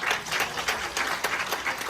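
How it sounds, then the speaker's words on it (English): An audience at a Brooklyn community campaign event gives a round of applause: brief, dense, fairly distant clapping from many hands with no talk. "So give her a round of applause too."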